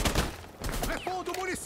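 Gunfire in the shooter game Rainbow Six: a short burst of sharp shots at the start, then clattering impacts and mechanical clicks, mixed with a voice speaking briefly.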